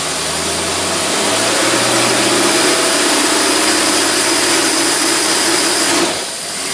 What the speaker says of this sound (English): that engine will start cutting out and start shaking